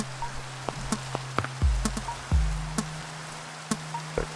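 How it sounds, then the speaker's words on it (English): Steady rain falls during a thunderstorm in the video game Minecraft. A constant hiss is broken by sharp percussive clicks and a few low thumps, with no talking. "this is definitely a thunderstorm"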